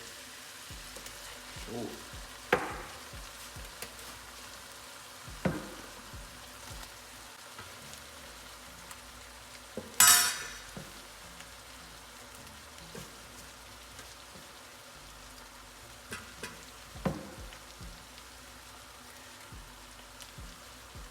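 Oil frying in a pan while making batata harra, spicy Lebanese potatoes: a faint steady crackle and sizzle runs throughout, broken by a few sharp pops and one bright hissing burst, with a brief spoken exclamation.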